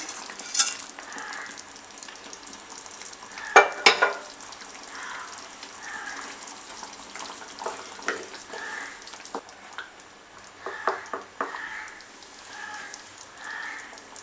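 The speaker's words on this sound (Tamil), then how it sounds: "இப்போ நான் ஃப்ரை பண்ணி வச்சுருக்கிற பன்னீர் வந்து அதில் வந்து நான் ஆட் பண்ணிக்கிறேன்" Fried paneer cubes stirred into a simmering white kurma, with a steady soft sizzle and bubbling, occasional spoon scrapes and a sharp clatter against the pot near the middle, and no voices.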